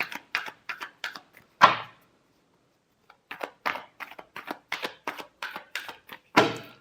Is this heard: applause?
no